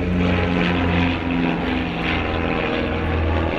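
Propeller airplanes flying overhead at an EAA aviation event, a loud, steady engine drone that fills the whole stretch without pause or any voices.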